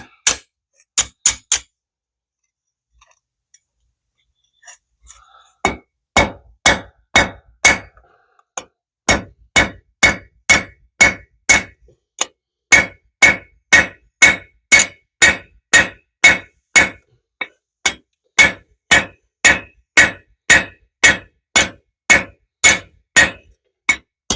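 A hammer driving a rivet into a metal decorative hanging basket bracket, a few scattered taps and then a long, steady run of sharp ringing metallic strikes at an even pace, close and loud, with no speech.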